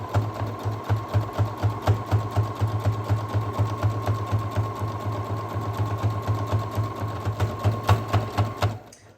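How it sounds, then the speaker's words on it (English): A sewing machine zigzag-stitches over the seams of a fabric snap bag, its needle chattering in a fast, even rhythm with regular pulses for about nine seconds before it stops. "So we're gonna zigzag over those seams just to give them a little bit more stability"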